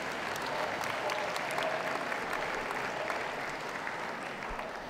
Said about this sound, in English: a round of applause and congratulations for getting this far